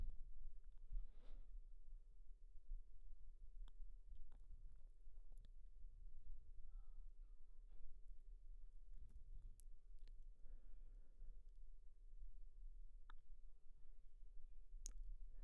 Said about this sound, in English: So we're going to remove these 4 screws here